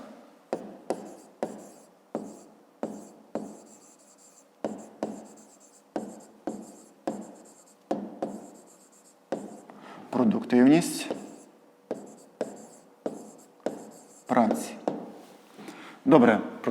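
A pen writes out a fifth-grade maths solution on paper, short scratchy strokes in a steady rhythm of separate bursts with brief gaps, and a few longer, busier passages as more is written.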